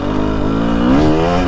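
A 2023 Husqvarna TX300 Heritage two-stroke motorcycle engine with TBI injection revs steadily up close, its rising buzzy pitch climbing smoothly under partial throttle with no talking.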